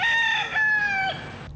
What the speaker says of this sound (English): decided to add a rooster to the mix